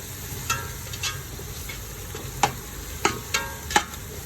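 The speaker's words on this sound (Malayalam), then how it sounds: "പൊടി നന്നായിട്ടൊന്ന് ചൂടാക്കാം" Spice powder heating and lightly sizzling in a pan for chicken biryani, with a soft frying hiss broken by several sharp scraping clicks of a spoon stirring against the pan.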